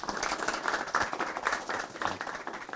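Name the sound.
audience applause welcoming a speaker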